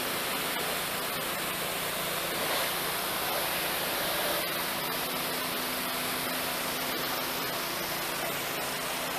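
Water sprays steadily from a hose onto the undercarriage of a Ford F350 pickup, a constant loud hissing rush with no break, close by.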